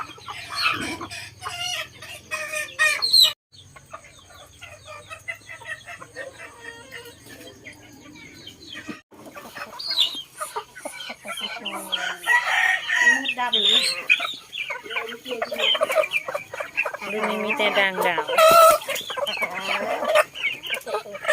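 Native village chickens cluck repeatedly around a farmyard while roosters crow several times, some loud and near, with occasional talk mixed in.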